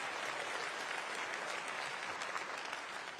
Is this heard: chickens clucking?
no